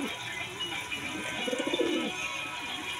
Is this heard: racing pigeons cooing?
yes